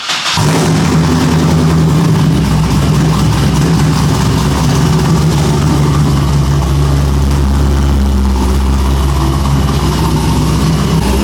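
A 2010 Corvette Grand Sport with a ProCharger supercharger, fitted with drag radials, runs loud and close: a deep steady engine rumble that holds throughout, with no talk over it.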